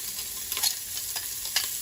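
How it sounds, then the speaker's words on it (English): Onions, peppers and garlic dropped into hot pork fat from cooked carnitas hiss in a steady, bright sizzle, close up, with a few soft stirring scrapes and no talk. "we're just gonna drop the onions"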